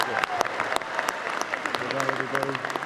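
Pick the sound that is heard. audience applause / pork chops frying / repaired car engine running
audience applause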